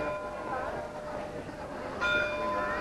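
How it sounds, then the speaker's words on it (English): Bells of the old corn exchange in Melton Mowbray ring faintly in the distance over a busy street murmur, a brighter chime rising near the end. "Can you hear the bells going now of the old corn exchange?"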